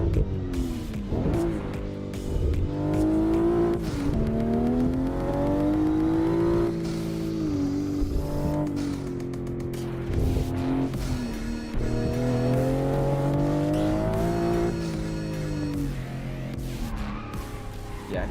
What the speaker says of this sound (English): I'm driving the Toyota Supra MK5 in-game